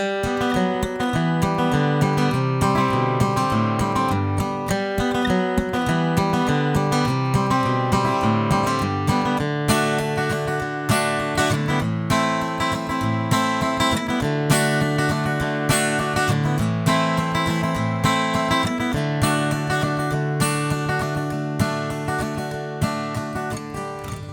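An acoustic guitar plays the strummed, rhythmic A section of a song with a descending line, steady and clear throughout with no voices.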